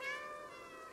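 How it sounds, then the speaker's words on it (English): The cat in the PS5 video game Stray gives a single soft, drawn-out meow, faint and clear, with no voices over it. "Press circle to meow."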